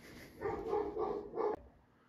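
A dog barks a few times in quick succession, fairly close, then the sound cuts off into quiet.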